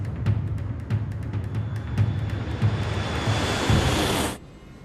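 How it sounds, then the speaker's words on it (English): Germanwings airliner engines at takeoff thrust build into a broad, rising roar with regular dull thumps underneath, then cut off abruptly near the end. "Takeoff thrust."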